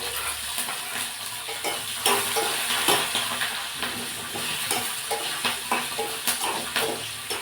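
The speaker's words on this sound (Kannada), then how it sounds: "ಸೊ ಮೆಣಸಿನ್ಕಾಯಿ ಹಾಕ್ಕೊಂಡಿದ್ದೀನಿ." Green chillies fry in hot tempering oil, giving a loud, constant sizzle with rhythmic scraping and stirring strokes recurring every second or so, close up and with no talking.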